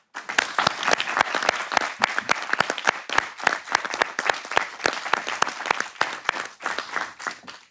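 A room of attendees at a municipal council meeting in Caluire-et-Cuire applauds for several seconds, a dense and fairly even burst of clapping that stays steady before tapering at the end.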